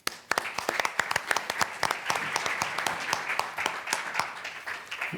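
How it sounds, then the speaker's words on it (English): An audience at a health research meeting applauds, a dense, sustained clapping with many distinct hand claps that carries on steadily without voices. "Your applause, please, for Valentín Fuster"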